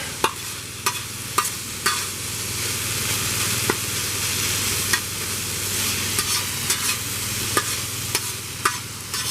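Tomatoes and Asian carp fajita mix cook in a pan with a constant close sizzle, punctuated by regular sharp clicks and scrapes of a utensil stirring, with no voices.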